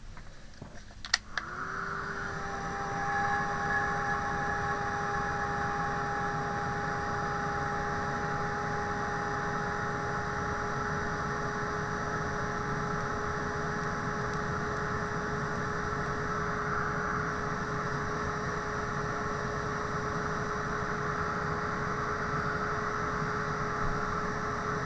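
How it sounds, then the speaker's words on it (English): A heat gun blows on a freshly painted craft tag, starting with a click and then holding a steady, loud whirring hum with a constant whine throughout, no talking. "I'm going to give it another wee blast with the heat gun just to make sure that it's nice and dry."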